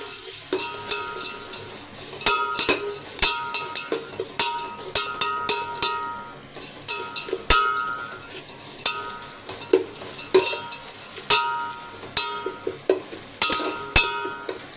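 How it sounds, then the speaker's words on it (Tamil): Onions sautéing in a pan with salt for mutton thokku coconut milk rice, stirred with a metal spoon that clinks steadily against the pan in repeated scrapes and taps over a soft sizzle. "வெங்காயமும் நம்மளுக்கு நல்லா வதங்கி வரும்"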